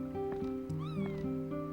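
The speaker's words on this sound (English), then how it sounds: "It's just a cat." A black cat in the Chrono Cross video game gives a few short, tonal meows in quick succession, clear and close, with one rising-and-falling cry in the middle and a steady melodic game tone underneath.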